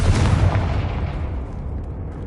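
A Confringo fire spell explodes in the Hogwarts Legacy video game, giving a loud, close, rumbling blast whose roar fades slowly over about two seconds, with no voices.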